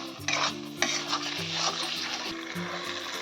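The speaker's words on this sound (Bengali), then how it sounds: "ধনে পাতাটা দিয়ে ভালো করে নাড়িয়ে দেবো" Tomato chutney with coriander leaves stirred in a hot pan, giving a soft sizzle with scraping and light clatter of a spoon against the pan, close and moderate, over a faint steady background hum.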